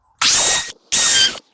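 Cordless drill running in two separate bursts, each about half a second long, close and loud, driving 2.5-inch deck screws into a wooden archery target frame with no talking.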